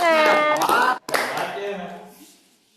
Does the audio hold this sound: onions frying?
no